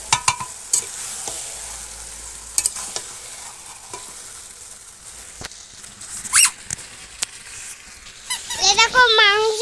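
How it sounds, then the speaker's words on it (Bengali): Meat sautéing in a pot over a wood fire in a village kitchen, a soft steady sizzle with occasional stirring scrapes and clinks, and a voice speaking near the end. "মাংস কষা হচ্ছে"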